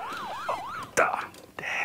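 The Pac-Man arcade game's warbling electronic siren wails in a rapid up-and-down sweep, loud and close, broken by sharp game blips and effects.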